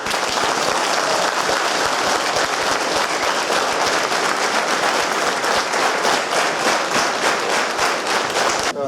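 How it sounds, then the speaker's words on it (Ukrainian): Soldiers at a training centre applaud children who came carol singing, a thick, sustained round of clapping from a large group, loud and even throughout without a break. "ці щирі гарячі оплески для них"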